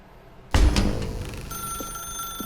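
An office telephone rings in The Stanley Parable, one sudden loud metallic bell burst that rings out and slowly decays, close and isolated with no voices.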